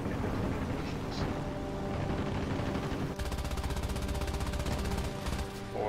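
Aircraft machine guns fire in War Thunder, first a steady background of engine drone and distant shots, then a long rapid burst of rattling gunfire from about the middle of the clip to the end.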